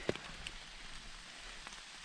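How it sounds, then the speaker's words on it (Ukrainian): Rain falling in an autumn forest during mushroom picking, a faint steady patter with a few distinct drops striking nearby, quiet and without talk. "Дощ паде"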